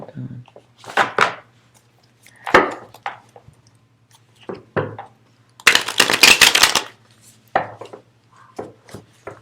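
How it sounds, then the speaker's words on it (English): Cards are shuffled in short bursts and pulled from the deck, with a dense flurry of riffling in the middle and a few sharp slaps, heard close alongside a person speaking. "I'm gonna pull some different cards right now."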